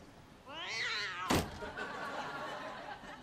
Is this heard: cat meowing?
yes